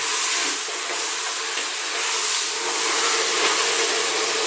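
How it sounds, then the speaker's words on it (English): Lamb curry with onions and salt frying in a pan, giving a loud steady sizzle and hiss with no pauses. "let's fry this around."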